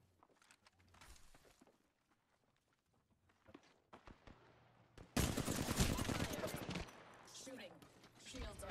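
Rapid gunfire bursts from Apex Legends gameplay erupt loudly mid-clip, dense and sustained for a couple of seconds, with quieter footsteps and game effects before and after.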